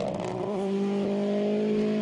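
A World Rally Championship car engine, running after an exhaust manifold change, drones with a steady, slightly wavering tone, close and continuous for a couple of seconds.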